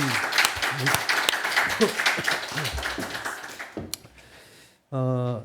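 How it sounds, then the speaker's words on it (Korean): A church congregation claps warmly to welcome a returning member during a Sunday service, the applause tapering off before someone speaks briefly at the end. "우리 박수로 환영하겠습니다"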